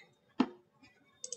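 A mouse clicks once while a Cisco CBS switch is being configured, a sharp close tap followed later by two fainter quick clicks in a quiet room.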